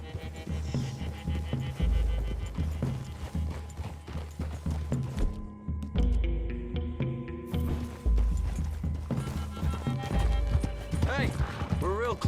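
Horses clip-clop at a steady walk through trees in a video game, hooves close and continuous under ongoing talk, with an occasional whinny and a low game score humming beneath.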